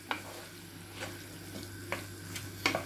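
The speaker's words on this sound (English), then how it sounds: "So this is the minced meat with the onions in there nicely. You allow it to cook a bit." Minced meat and onions cooking in a pan for Ghanaian meat pie, a steady low sizzle with a few sharp scraping stirs of a utensil spaced through it.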